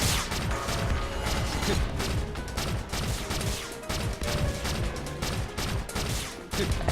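Rapid gunfire from a Ranger class weapon in the video game Phantasy Star Online 2, a dense continuous burst of shots with mechanical clatter, steady and loud throughout.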